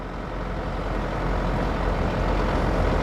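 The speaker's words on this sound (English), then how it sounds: "Nice little bus there." Small bus in the outback at Mungo National Park, a steady, fairly close low engine rumble with broadband road noise that grows slightly louder, without talk.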